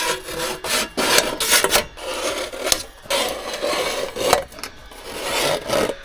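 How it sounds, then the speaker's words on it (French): A scribe scraped across sheet metal while marking out lines for a rebuilt Volkswagen Beetle hillclimb car, giving repeated close rasping strokes in an uneven rhythm with no talking. "on va tracer sur la tôle des lignes"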